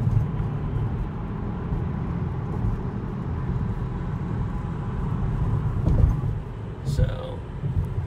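Inside a Tesla Model 3 driving itself on autopilot around a corner, a steady low road and tyre hum fills the cabin, with a faint bump near the end and people talking over it.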